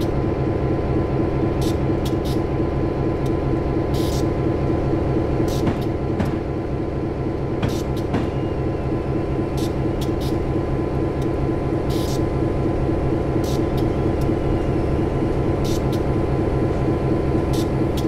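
Freight train rolling in Train Simulator 2013, a steady loud rumble of rail wagons with repeated clacks and brief higher squeaks, continuous throughout, a voice only faintly present.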